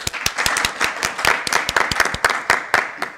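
An audience claps in a comedy show studio, a run of sharp, uneven hand claps at close range that keeps going steadily without voices over it.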